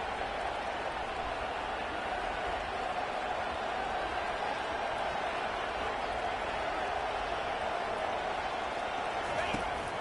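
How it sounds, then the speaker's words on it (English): A football stadium crowd roars steadily during a tense two-point conversion attempt, a dense, constant wash of noise that holds at one level throughout with no pauses. "this crowd rises up to try to make it tough"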